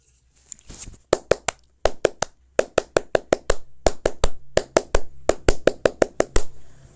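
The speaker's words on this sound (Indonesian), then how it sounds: "Dua kali tepuk pramuka" Several scouts clap in unison, sharp rhythmic claps in patterned bursts, close and crisp with brief pauses between phrases.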